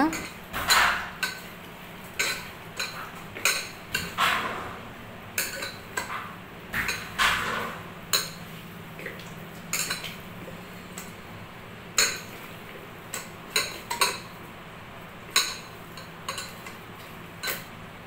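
Beef is worked by hand with pepper and salt in a bowl, producing a steady run of light clinks and wet ticking taps, irregular but continuous, close and fairly quiet.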